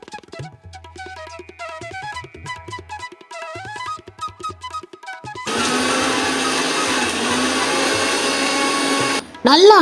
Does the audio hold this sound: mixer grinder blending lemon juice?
yes